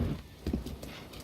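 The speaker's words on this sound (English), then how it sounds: "This is a slow horse, but he's got a couple spurs on him." Horse hooves clip-clopping at a slow pace in Zelda: Breath of the Wild, a soft uneven run of muffled thuds close by with no voices.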